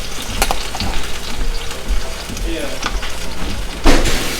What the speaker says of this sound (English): I know over there I'm frying plantain.